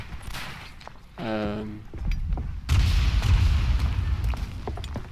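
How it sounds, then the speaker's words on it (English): A mortar or grenade explodes in the World War I trench shooter Verdun, a loud booming blast followed by rumbling debris, with distant gunfire and voices nearby beforehand. "I wasn't sure if that was a mortar or a grenade"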